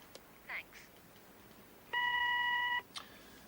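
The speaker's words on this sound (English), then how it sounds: "Please speak after you hear the beep" Answering machine beep: a single steady electronic tone lasting just under a second, clear over a quiet hissy room background with a couple of faint clicks before and after.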